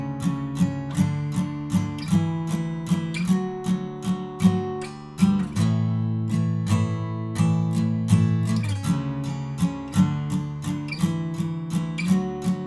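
Acoustic guitar strummed through the pre-chorus of a song, steady rhythmic chord strums with ringing open strings and a brief chord change midway, played alone and close with no talking.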